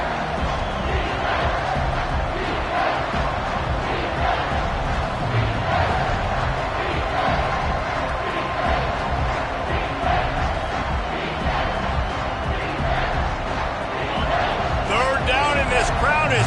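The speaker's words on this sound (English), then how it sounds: "This crowd is tearing the lid off this place." Stadium crowd roaring loudly and continuously at a college football game between Oklahoma and Oklahoma State, a dense wall of cheering with a play-by-play voice over it.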